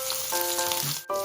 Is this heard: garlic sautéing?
yes